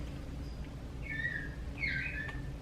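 A songbird chirps and trills outdoors, two short bright phrases standing out over a steady low background hum, fairly faint and at a distance, with no talking.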